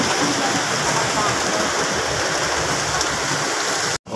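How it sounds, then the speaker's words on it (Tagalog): Dense, steady roar of heavy rain pouring down close by during a typhoon, unbroken hiss that cuts off abruptly near the end. "lakas ng ulan."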